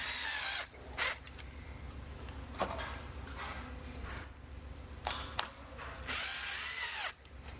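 A power drill driving 8 by 1/2 inch tech screws into a metal end dam, several loud whirring bursts of a few seconds each separated by brief pauses, close and alone without talk.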